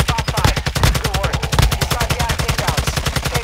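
Gunfire in Call of Duty Warzone 2.0: loud, rapid automatic bursts in a steady, pulsing rhythm that runs through the whole stretch, with brief heavier shots mixed in.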